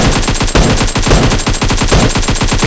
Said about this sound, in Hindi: तभी एक बंदा फायर कर देता है।